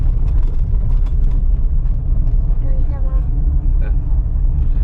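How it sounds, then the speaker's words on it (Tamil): A car drives alone along a narrow, single-lane forest road at Topslip, its engine a steady low rumble throughout, with people talking over it. "நம்ம வண்டி தான் போகுது, தனியாக போயிட்டுருக்கோம் அப்படியே"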